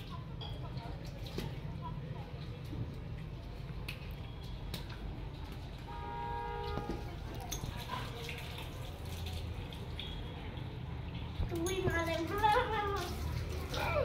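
A hose pipe runs water at a home pool party in summer, giving a steady rushing flow with splashing underneath. Children's voices and talking carry on over it, with brighter splashes near the end.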